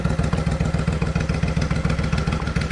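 A customized 2002 Suzuki Intruder VS1400 motorcycle's V-twin engine idling close by with a steady, loping low throb and mechanical clatter, running alone without voices.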